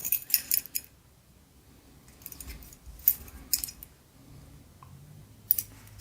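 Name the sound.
two keys being handled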